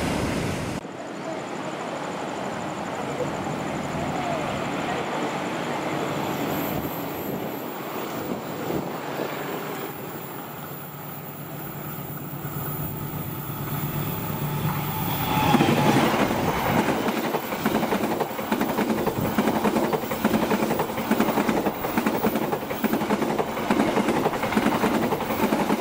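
A container freight train rolls past on an Indonesian railway line, loud and sustained, with rumbling wheels and steady clickety-clack that swells in the second half.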